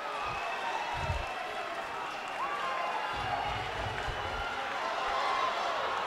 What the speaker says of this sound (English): The crowd is going wild in New Hampshire.